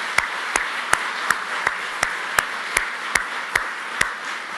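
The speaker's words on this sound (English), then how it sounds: "Let's give those guys a round of applause." An audience applauds veterans at a political rally in North Carolina, heard as a run of sharp, evenly spaced claps over a steady, dense roar of crowd clapping throughout.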